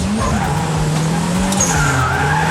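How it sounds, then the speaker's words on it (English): A revived racecar drifts around a track, its tires squealing loudly and steadily over the engine's continuous drone, up close throughout. "I forgot we were drifting."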